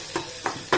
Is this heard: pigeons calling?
no